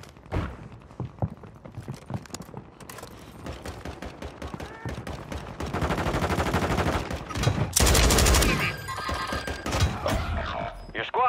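Call of Duty gunfire crackles in dense, rapid bursts, sharp individual shots building into sustained automatic fire and loud volleys, close and punchy, with game voices heard briefly.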